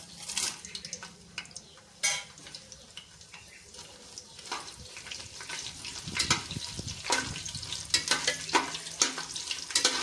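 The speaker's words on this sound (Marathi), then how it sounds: "तेल आता चांगलं तापले, त्याच्यात आपण हे जो खडा मसाला काढलेला फोडणीसाठी तो टाकून घेऊया" Whole spices crackle and sizzle in hot oil for tempering, irregular popping bursts over a low frying hiss with occasional clinks of a utensil against the pan, fairly close and moderately loud.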